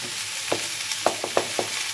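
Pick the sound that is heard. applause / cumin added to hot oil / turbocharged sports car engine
cumin added to hot oil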